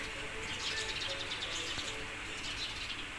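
Sparrows chirp in a busy chorus, many small tweets overlapping against a constant airy background hiss.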